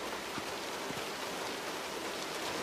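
Steady rain falls outdoors as a dense, even hiss with a few faint patters, continuous and fairly quiet throughout with no voices.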